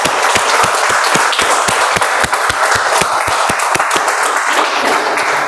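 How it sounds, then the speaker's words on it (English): An audience at a Toastmasters meeting applauds, steady dense clapping from a room full of people that carries on evenly for several seconds without letup. "Please give a huge round of applause"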